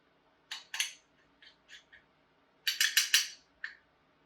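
A spoon working gravy paste in a pan, giving sparse metallic scrapes and clinks in short uneven bursts, a quick cluster near the end, close and clear with no talking.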